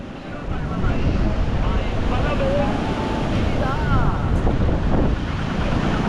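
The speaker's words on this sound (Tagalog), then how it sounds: "nasa dagat po tayo sa pabi" Heavy wind buffets the microphone over a constant roar of sea and surf at a beach in Pangasinan, with faint voices barely audible beneath the noise.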